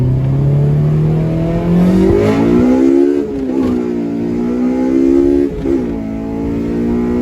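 A Honda Civic DX with a swapped K20Z3 engine and manual gearbox pulls hard, the loud close engine note climbing steadily, then dropping sharply at a shift and climbing again with another shift later on.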